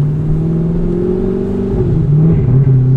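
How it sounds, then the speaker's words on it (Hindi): Audi R8 sports car engine droning steadily inside the cabin, with a clear pitch rising and shifting as it revs and accelerates, loud and continuous throughout. "let's have a ride on Audi R8"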